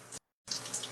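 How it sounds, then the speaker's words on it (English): Running shower water, a steady close hiss that cuts out briefly and then resumes at the same level. "Because I'm taking a shower, Bubba."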